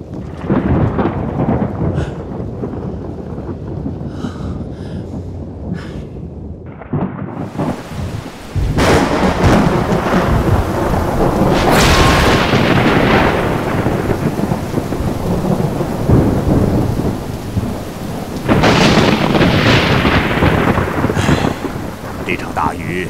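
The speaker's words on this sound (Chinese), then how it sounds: "这场大雨也下了五六天了，看样子还是没有放晴的意思" Heavy rain pours down in a loud, continuous roar while deep thunder rumbles and swells, with two or three stronger surges over the steady downpour.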